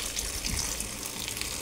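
Running water rushes steadily from a kitchen tap as a bunch of spinach is washed for palak paratha, a continuous close hiss with no talking.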